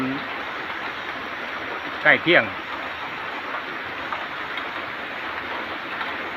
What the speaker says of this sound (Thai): ก็เป็นภาพบรรยากาศฝนตกนะครับ